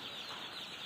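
Newly delivered baby chicks in a heated brooder keep up a dense, continuous chorus of high peeping close by, with no speech.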